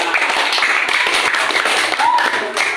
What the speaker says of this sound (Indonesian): Oke, beri tepuk tangan.